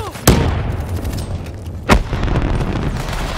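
Two sharp booming grenade blasts in Black Ops 3 multiplayer, spaced about a second and a half apart, loud and close over a steady bed of battle noise.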